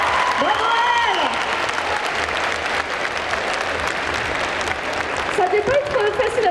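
An audience applauds a cosplayer leaving the stage at a geek festival cosplay contest, a continuous mass of clapping throughout with cheering, while an amplified voice speaks over it.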